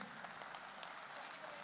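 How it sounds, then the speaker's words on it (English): Applause from a summit audience, a dense wash of clapping that runs steadily through the whole moment at a moderate, distant level. "this deserves nothing short of an applause"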